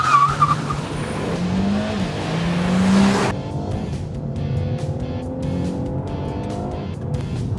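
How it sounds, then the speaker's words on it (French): Renault Mégane GT making a launch control start: a loud, near engine roar under full throttle, then hard acceleration with rising revs and gear changes, tires squealing at the launch. "appuyer à fond sur l'accélérateur, et dès qu'on est prêt, relâcher le frein."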